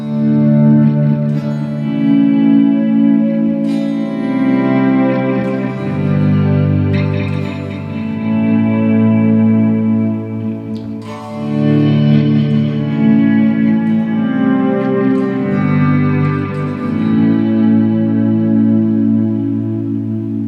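Custom Telecaster electric guitar strums simple open chords on a clean setting, each chord ringing out with steady sustain in a slow progression, close and alone with a touch of effect shimmer.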